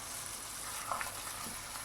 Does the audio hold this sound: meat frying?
yes